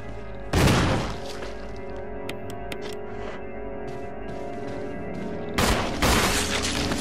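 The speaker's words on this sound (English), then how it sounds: "I use this one shotgun shell on this zombie." A shotgun blasts at a zombie in Resident Evil REmake with a loud, close, booming report. A second heavy burst of impact follows seconds later, and faint clicks fill the gap between them.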